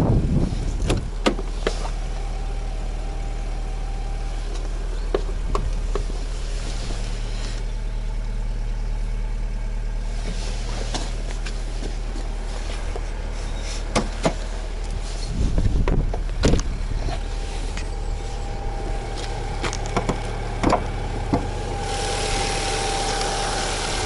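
A car engine idles steadily at close range at a used car dealership, a low continuous rumble with occasional small knocks and clicks over it.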